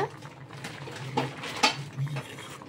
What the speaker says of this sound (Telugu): ఇప్పుడు ఈ కడిగిన నెయ్యిని, ఈ క్యాష్యూస్ని, కిస్మిస్ని, ఇవన్నిటిని కూడా కలుపుకుందాం ఇట్లా.